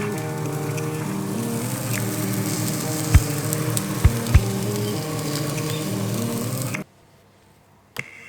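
Food sizzles steadily in a grill pan for lunch, a dense crackling hiss with a few sharp pops and ticks, then the sound cuts off abruptly to near silence with one brief clack near the end.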